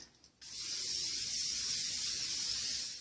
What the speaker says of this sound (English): you want to make sure that you spray your tin very well